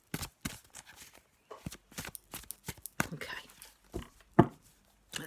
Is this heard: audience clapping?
no